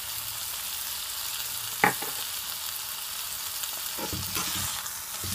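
Black pepper being stirred into corned beef in a pan, a steady soft hiss with faint scraping and one sharp clink of the utensil, close and without talk.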